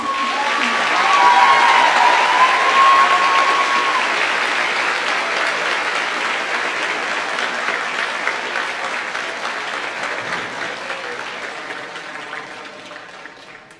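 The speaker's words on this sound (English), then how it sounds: "We can give a final round of applause for our 8-1 kids" A final round of applause from a middle school moving-up ceremony audience for the 8-1 eighth-grade kids, a broad, sustained crowd clapping that swells early and slowly tapers over nearly fourteen seconds.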